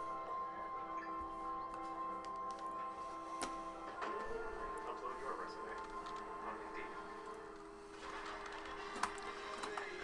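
A printer in a sports-card break room runs off a printout, giving a steady mechanical whir with faint ticking, plus a few sharper clicks near the end.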